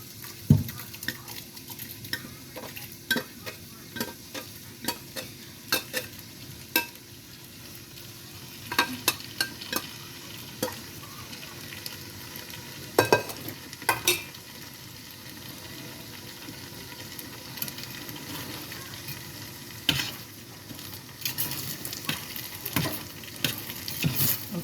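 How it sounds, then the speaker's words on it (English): Shrimp and lobster pasta is stirred in a sizzling pot, with a bubbling, frying hiss underneath and intermittent scrapes and clinks of the utensil against the pot, close and without speech. "And so I'm just mixing it, incorporating it like so."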